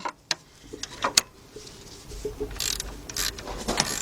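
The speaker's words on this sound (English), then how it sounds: "now we're gonna tighten that up." Ratchet tightening a nut on the alternator of a 1986 Mercury Marquis 3.8, heard as faint, quick clicking bursts and small metallic taps close by, with a brief louder stretch of rapid clicks near the end.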